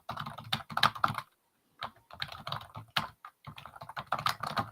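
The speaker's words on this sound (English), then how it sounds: "and I'm typing" Rapid clacking of keys on a computer keyboard in bursts, pausing briefly before resuming, close and fairly quiet with no talking.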